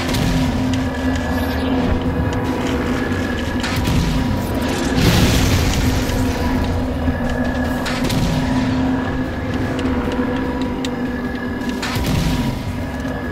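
Banshee aircraft weapon fire and explosions in Halo 4 during a Legendary run, with loud repeated booming blasts and engine roar filling the whole stretch, with no talk.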